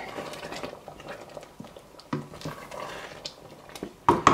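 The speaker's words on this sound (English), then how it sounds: "Just gonna stir that nicely." Spoon stirring a pan of South Indian egg and potato curry, soft irregular scraping and patting clatter at close range, with a couple of sharper knocks against the pan near the end.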